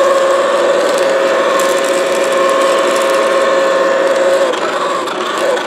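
A home ice cream maker churns thick chocolate ice cream, its motor giving a loud steady mechanical whir that labours and slows near the end as the mixture stiffens and bogs down.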